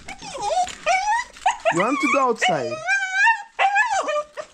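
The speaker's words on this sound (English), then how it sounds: "So that's my dog right here." A pet dog whimpers and yips in high, wavering cries close by, a run of several whines broken by short pauses, while a person speaks over it.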